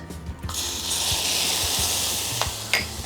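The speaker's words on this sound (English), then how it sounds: "Add a small pinch of salt to it and then stir fry until they turn soft." Vegetables with bell pepper and a pinch of salt stir-fry in a hot pan, a loud continuous sizzle with scraping stir strokes and a few sharp taps of the utensil against the pan.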